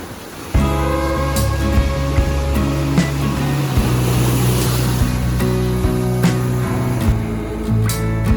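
Sea waves wash onto a sandy beach in Alanya, a steady broad surf rush running throughout at moderate loudness, with some tonal humming mixed in and no talk.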